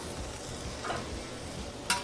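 Beef chuck roast sizzling on a hot Blackstone griddle, a soft, steady frying hiss up close, broken by a single sharp metallic tick of a spatula near the end.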